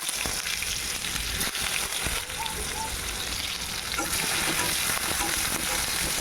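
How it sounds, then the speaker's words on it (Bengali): Onions frying in hot oil with cumin in a kadai, a dense continuous sizzle close by with faint stirring, no voices. "তার আমি এখানে পেঁয়াজ দিচ্ছি।"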